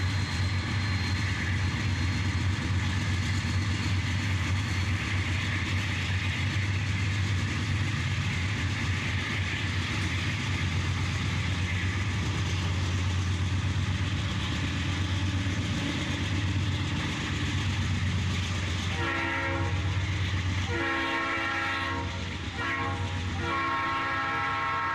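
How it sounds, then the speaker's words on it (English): A BNSF chemical freight train rumbles past steadily for a long stretch in Joshua, Texas, its horn blaring in several loud blasts toward the end. "Chemical train for this day."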